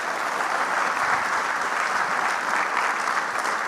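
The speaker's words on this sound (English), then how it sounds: "So let's give a round of applause to Jeff." Steady, even clapping from an audience at an annual meeting, a full round of applause that stays level throughout with no talking over it.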